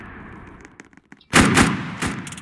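Gunfire in the Roblox Prison Life game: quiet clicks and faint game noise give way to a loud burst of rapid shots that holds for about a second and then tails off into scattered, quieter pops.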